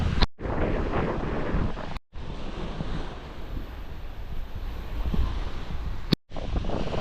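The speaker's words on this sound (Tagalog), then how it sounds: "Mapapansin ninyo medyo maalo, no, tsaka malakas ang hangin" Strong wind buffets the microphone over choppy open sea from a boat, a steady loud roar of gusts and surf with a few abrupt dropouts.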